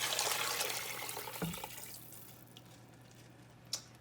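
Water poured into a soup pot for a tomato, white bean and kale soup, a steady splashing stream that fades after the first second and a half, with a brief drip or clink near the end.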